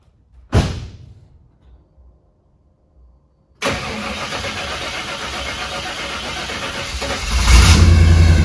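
Chevy OBS pickup truck with new wheels and tires: a single sharp click, a pause, then the engine cranks and fires into a loud, steady close-up idle that rises in a brief rev near the end.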